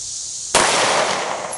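A single gunshot fired at a target on a shooting range, a sharp close crack followed by a short ringing tail of echo.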